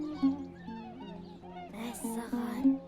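A flock of geese honks overhead in a quick run of overlapping nasal calls, some louder and nearer than others, with no talk.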